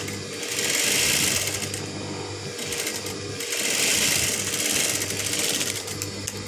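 A sewing machine stitches a neck strip on a nighty, running in two sustained bursts of rapid, even whirring and clatter that swell and ease, close and loud.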